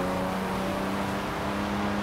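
Lamborghini Aventador engine in the Forza Horizon 4 racing game, a steady sustained drone while driving, constant and unbroken.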